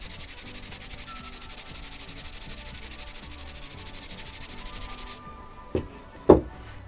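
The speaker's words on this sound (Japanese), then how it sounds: "まあ、今回はこのサンドペーパーホルダー、これは平面が一応出てるので、これの、これ400番、" A home-center chisel is sharpened on 400-grit sandpaper in a flat holder, giving steady, rhythmic back-and-forth scraping strokes up close for about five seconds. The scraping then stops, followed by two brief knocks.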